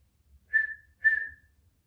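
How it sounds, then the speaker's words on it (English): Two short whistled exhales come one after another, each about half a second long and steady in pitch. They mark a double exhale in a Pilates breathing exercise and sound close and clear in a quiet room. "you don't have to whistle when you do it"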